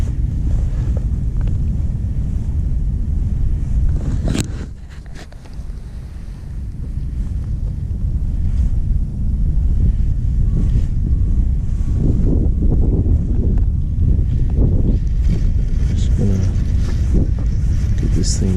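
Strong wind roars steadily into the microphone on a cold day of fishing outdoors, a loud and constant low buffeting that dips briefly partway through. Someone talks under the gusts.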